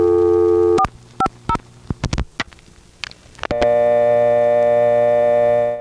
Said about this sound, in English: We've heard this kind of a dial tone somewhere else before, without the pitch variation